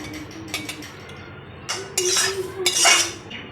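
A pot of cooked Maggi noodles comes off a kitchen stove with a few sharp metallic clinks and scrapes of utensils against cookware, close by and uneven in rhythm.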